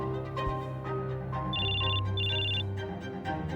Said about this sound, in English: Even his ringtone sounds angry.